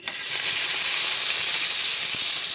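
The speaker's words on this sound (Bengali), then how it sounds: "তেলে আমি আলুটা ভেজে নিচ্ছি" Potatoes fry in hot oil with a loud, unbroken sizzling hiss that holds steady from start to finish, close by.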